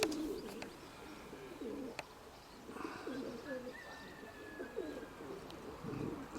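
Pigeons coo repeatedly in low, soft bursts, with a few higher chirps and a faint whistle-like tone in the background.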